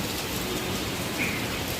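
Heavy monsoon rain pours steadily in Hyderabad near an office, a dense, loud hiss of downpour with no gaps and no voices.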